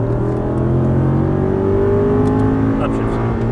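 Race car pulling hard out of a corner under full throttle, a loud steady engine drone climbing in pitch close by, with a voice talking over it.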